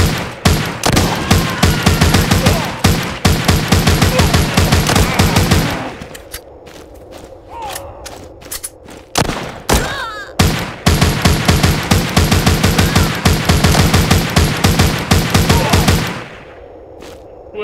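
Rapid automatic gunfire in the zombie shooter game The Walking Zombies II rattles in loud, dense bursts, then breaks into scattered single shots before another long sustained volley, with no talk.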